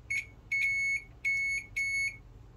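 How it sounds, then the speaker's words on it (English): A UNI-T UT39A digital multimeter beeps during a continuity test: four clear, steady high-pitched tones of varying length, close and alone against a quiet background. "Now I'm doing a continuity test here. Checking the continuity test,"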